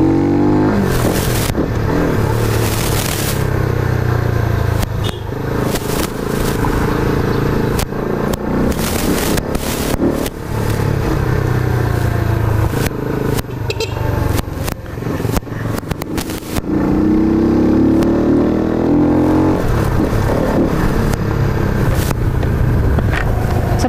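A Rusi Flash 150 motorcycle on a test ride accelerates hard, its engine droning loud and close with rising revs and repeated gear-change sweeps. Constant wind buffeting rushes over it.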